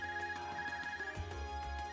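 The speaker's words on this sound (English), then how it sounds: "Is that your ARCUS ringing?" An ARCUS communication device rings in the Trails of Cold Steel video game, a sustained electronic ringing tone with soft pulsing accents over quiet game background.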